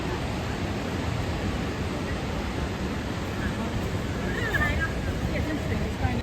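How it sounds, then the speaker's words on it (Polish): A steady, dense roar of rushing water fills the whole clip, broad and constant like a large waterfall nearby, with no pauses; Khone Phapheng Falls, Laos. "Przed państwem Konepapeng Waterfall,"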